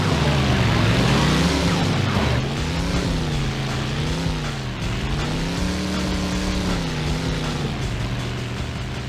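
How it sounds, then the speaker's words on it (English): Droning engine loop from a GameCube racing game, a loud buzzy motor tone whose pitch rises and falls in repeated swells with no other sounds over it. "This is the only engine sound there is in the whole game."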